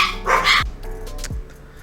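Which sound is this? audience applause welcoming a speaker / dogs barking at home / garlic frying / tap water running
dogs barking at home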